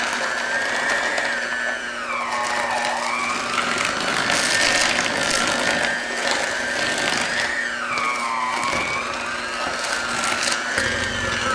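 An electric mixer whirring through cream cheese and whipped topping in a bowl, a steady loud motor drone with pitch dips as the beaters load and slow, running throughout.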